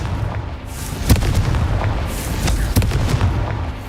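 The Confringo explosion spell goes off in Harry Potter: Hogwarts Mystery, a rolling series of booming blasts with two sharp, heavy hits standing out over a dense, rumbling low roar, and no talk.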